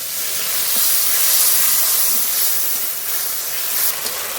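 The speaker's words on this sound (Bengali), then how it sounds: "একটু জল দিয়ে মশলাটা ভালো করে কষিয়ে নেব" Spice paste of ground ginger, coriander, cumin, dried chilli and garlic frying with a little water in a pan, giving a steady close hiss of sizzling and steam with no talking.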